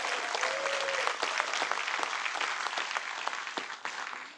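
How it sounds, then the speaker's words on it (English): Audience applause at a community kickoff event in Bremerton, dense and sustained clapping from a sizable crowd, fairly loud and even throughout before easing slightly at the end. "How about a round of applause for everyone involved?"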